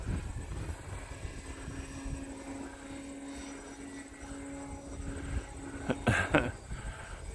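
An electric RC airplane, a Harrier, flies overhead with a steady buzzing motor whine that swells briefly as it performs a torque roll, fairly distant under outdoor wind noise.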